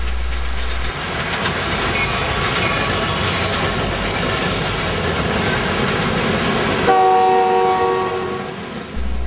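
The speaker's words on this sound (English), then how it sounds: "You'll see a variety of trains," A freight train rolls past at a railroad diamond in Rochelle, a loud continuous rumble of wheels and cars with a sustained horn blast sounding near the end; no voices.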